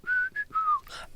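A short whistled melody, three clear sustained notes in a row followed by a breathy trailing tone, close and unaccompanied.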